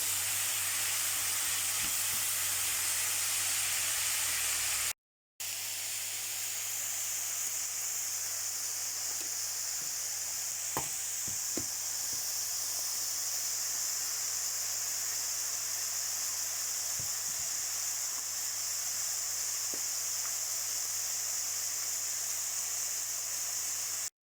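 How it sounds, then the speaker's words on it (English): Onions frying in a pan for chilli con carne, a steady loud hiss and sizzle close by, with a few faint clicks and a brief break near the start, no talk. "To this we're going to add the onions. Fry these off for a couple of minutes until they start to go brown."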